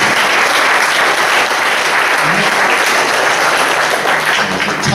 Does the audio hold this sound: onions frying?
no